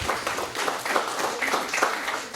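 Moderate clapping from a small group at a mobile app promotion event, steady and a little uneven across two seconds, with faint voices mixed in.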